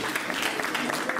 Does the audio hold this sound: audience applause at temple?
yes